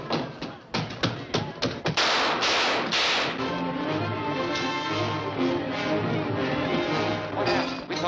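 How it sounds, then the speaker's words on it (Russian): A rapid burst of sharp gunshot bangs in a 1948 film, then a loud sustained musical swell takes over; gunfire crackles under dramatic orchestral sound. "Мы, кажется, слышали выстрелы"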